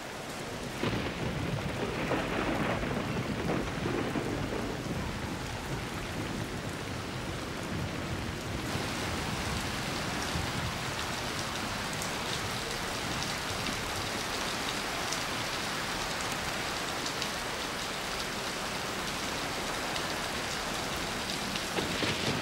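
Heavy tropical downpour over an archipelago, dense roaring rain drumming steadily on surfaces with thunder rumbling beneath, growing louder partway through and continuing unbroken.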